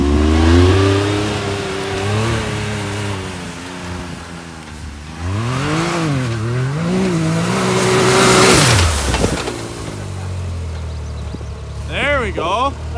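A Can-Am Maverick X3 side-by-side revs hard, loud and close, its engine pitch swooping up and down through repeated throttle blips. People talk over the engine noise.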